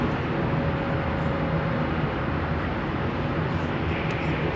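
A KLM Boeing 777 airliner at London Heathrow Airport produces a loud, steady jet engine roar with dense broadband rumble, sustained throughout and fairly near.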